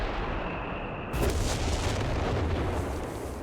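Artillery shells exploding in Company of Heroes 3, a dense rumbling barrage of booms that swells into a continuous heavy roar after a sharp onset, loud and sustained.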